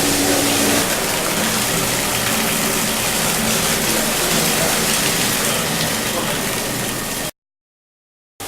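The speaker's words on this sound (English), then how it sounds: "Now we turn on the tank, it's pumping it through here and back into the empty copper" A pump pushes beer from a brewery tank through piping and back into an empty copper, making a loud, steady rushing wash of liquid that runs unbroken for about seven seconds before cutting out abruptly.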